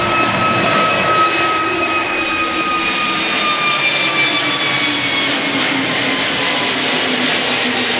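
A jet airliner roars steadily just beyond an airport runway, a loud, continuous broadband engine rush with faint whining tones that holds throughout without any voices.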